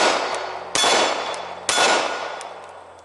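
Two sharp metallic clacks from a pistol slide being racked in one-handed shooting practice, close and loud, each ringing off briefly in a quiet room.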